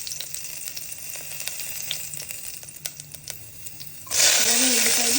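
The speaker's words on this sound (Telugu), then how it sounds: "గీ వేసుకుంటున్నాను, జీలకర్ర వేస్తున్నానండి" Ghee and cumin seeds sizzling in a pressure cooker, a crackly close sizzle with sharp ticking pops, then a sudden loud hiss that surges and holds to the end.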